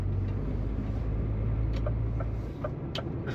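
A bright yellow car driving past, heard as a close, continuous rumble of engine and road noise with a few faint clicks on top.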